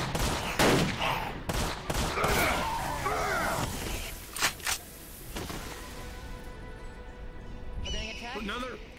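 Rapid bursts of gunfire in a roleplay video game session, with several sharp shots clustered early and mid-clip, mixed with game sounds and chatter under ongoing talk.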